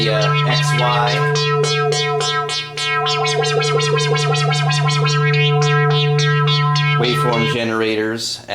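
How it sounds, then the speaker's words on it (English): A Moog Sonic Six synthesizer holds a sustained tone with a steady low drone and bright harmonics pulsing in a fast, regular rhythm as waveform generators modulate the filter, fairly loud, no voices. "Waveform generators as a modulation source for the filter."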